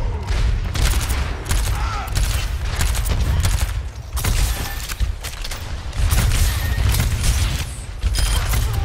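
Rapid gunfire rings out in an Overwatch match on King's Row, with dense bursts of automatic shooting and impacts. The firing comes in loud waves that briefly drop away and then resume, mixed with game effects.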